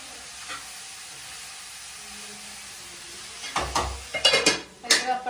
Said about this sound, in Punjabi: ਇੱਧਰ ਆਪਣਾ ਕੱਦੂ ਭੁੱਜਦਾ ਹੈਗਾ